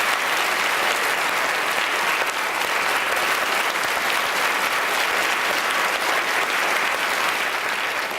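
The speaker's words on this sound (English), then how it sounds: "a big round of applause for our great apes" A large lecture-theatre audience claps steadily and loudly for the whole stretch, a dense, even roar of applause without a break.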